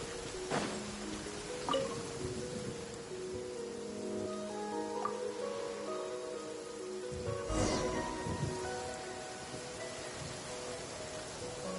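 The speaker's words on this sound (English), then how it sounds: "listening to the rain cleanse the earth makes me feel safe" Steady rain falls in the video game Genshin Impact, a soft even patter throughout, marked by a few brief louder bursts near the start and middle, with no one talking.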